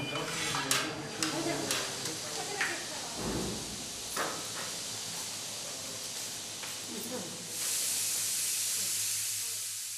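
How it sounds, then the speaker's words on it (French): Two autoclave pots working in a sterile room next to an operating theatre give off a continuous hiss of steam, with scattered clicks and knocks and a louder rush of steam toward the end. "2 marmites autoclaves y travaillent à toute vapeur."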